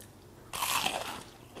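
A crisp bite into a large deep-fried Thai pork skewer gives a loud, sudden crunch that rings on briefly with crackly chewing, then fades back to quiet.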